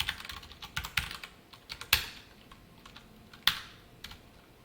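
Code being typed on a computer keyboard, quick irregular key clicks at close range with a couple of sharper, louder key strikes, no voices.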